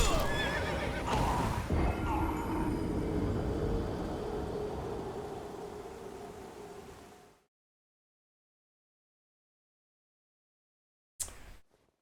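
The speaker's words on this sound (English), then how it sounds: "Fucking horse." Loud horse neighs and whinnies with hoof clip-clop from a mount in the Elden Ring video game, running for about seven seconds before abrupt silence and a brief burst near the end.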